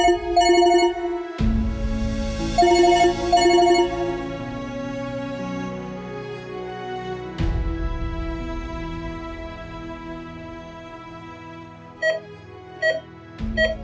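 A phone rings in a Pakistani TV drama scene, a repeating electronic ringtone with steady tonal bursts that sounds alone and fairly loud, stopping and starting a few times.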